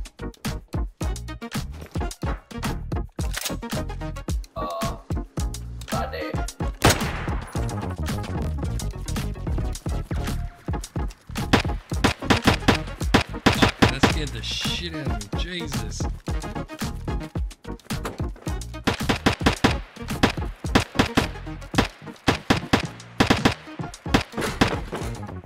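Rapid gunfire in the video game DayZ near an airfield bunker, dense bursts of sharp shots fired back to back almost continuously, loud and close.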